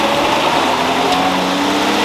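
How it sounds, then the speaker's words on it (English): A car engine on a dyno, coupled to a 727 automatic transmission, runs at a steady, loud revving drone throughout, with no talk over it. "I'll rev it up for you."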